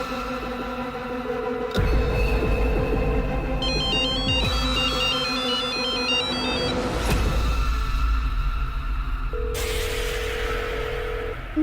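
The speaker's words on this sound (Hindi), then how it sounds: "जबकि फोन अंदर बज रहा है" A telephone rings inside a locked room, its ringtone repeating in bursts of warbling tones and a steady held note, mixed with deep rumbling hits and a low droning score.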